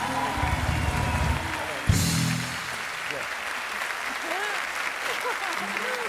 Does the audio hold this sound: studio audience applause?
yes